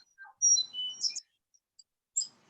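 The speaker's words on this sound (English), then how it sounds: "What's that twerping? Is that a bird? Hi, it's my bird." A pet bird indoors gives short, high, thin chirps and tweets in a few quick bursts, then a last chirp after a pause, fairly faint and without talk.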